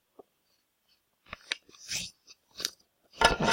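A sheet of paper is folded into a small cheat sheet, giving a faint tap and then a series of close, crisp rustles and creasing crackles that grow denser toward the end.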